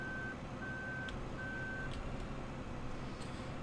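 A combine harvester in Farming Simulator 15 sounds its reversing alarm, three evenly spaced high beeps, fairly faint over a low engine drone.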